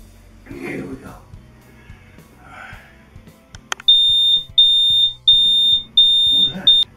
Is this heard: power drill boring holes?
no